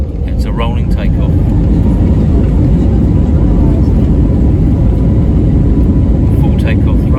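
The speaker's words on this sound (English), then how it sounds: "Full takeoff thrust." Airliner engines roar at full takeoff thrust during a rolling takeoff from Tenerife, a loud, steady, broadband rumble heard from inside the cabin that holds constant throughout.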